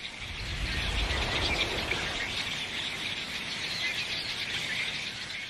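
A flock of red-winged blackbirds makes a dense, continuous chorus of high chirps and trills, steady and moderately loud, with no voices.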